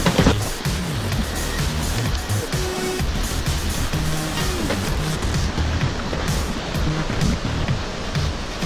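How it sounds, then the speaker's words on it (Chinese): A forest waterfall in Bali roars as a constant, dense rush of falling water, loud and close, with no break across the whole stretch. "我们要更靠近瀑布一点"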